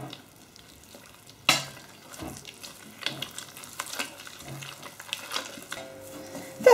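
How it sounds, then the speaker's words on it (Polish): Yeast dough for a Kujawiok babka is rubbed together with melted, cooled butter, making soft irregular squelching and scraping by hand, with a sharp knock early on and no talking. "Daję roztopione i przestudzone masło i ponownie to wszystko rozetrę."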